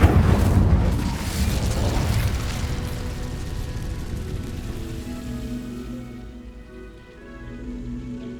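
Incendio fire spell cast in the video game Hogwarts Legacy: a loud whooshing, roaring blast of flame that starts strong and slowly fades into a lingering crackle and low rumble over several seconds.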